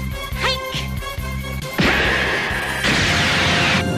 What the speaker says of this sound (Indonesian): Gohan pun segera menembakkan sebuah energi laser ke arah Garlic JR untuk melenyapkannya. Alhasil terjadi sebuah ledakan di tempat itu.